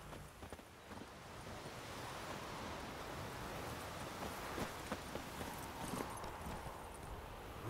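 Roach, the witcher's horse in The Witcher 3, gallops with a steady run of hoofbeats over a low rushing wind-like bed, moderately loud and continuous with no talk.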